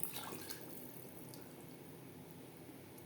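Water poured into a pot of mutton biryani after the meat is browned, a faint soft trickle and splash over quiet kitchen background.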